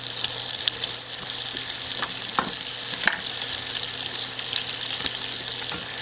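Finely chopped red pepper frying in melted butter, giving a steady, close hiss and crackle with small pops and occasional stirring clicks, no voices.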